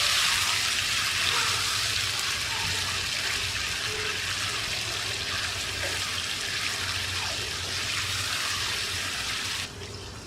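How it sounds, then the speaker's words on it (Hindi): A steady wash of water runs or pours into a pan of beef karahi, a continuous rushing hiss that holds at an even level and then drops slightly at the end. "आधा गिलास पानी का इसमें डाल दें और हल्की आंच पे रख दें।"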